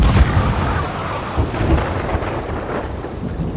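A thunderstorm with steady rain at sea in the pirate game Sea of Thieves, with deep rolling thunder rumbling under a continuous hiss of rain that stays fairly loud throughout, no voices.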